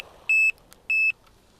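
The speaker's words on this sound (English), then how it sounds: "forget the beeps I'm getting at the moment" Electronic beeper on a sea fishing outing, sounding two identical high-pitched tones of about a quarter second each, about half a second apart, clear and close over quiet background.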